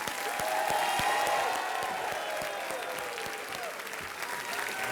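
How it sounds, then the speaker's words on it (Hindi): The studio audience of the KBC quiz show applauds warmly to welcome a guest, with sustained, dense clapping that is steady and full, lightly mixed with crowd noise and faint cheers, and no talking. "जोरदार तालियों के साथ स्वागत कीजिए"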